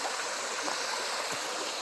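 Small waterfall on a mountain stream on the way to Clara Lake, a steady broadband rush of falling water, moderately near and continuous without voices.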